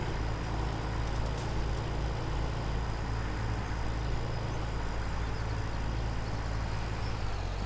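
A truck hauling a heavy load in Farming Simulator 17 rumbles as it turns, a steady loud engine drone with constant low hum and no distinct events, continuing alone without speech.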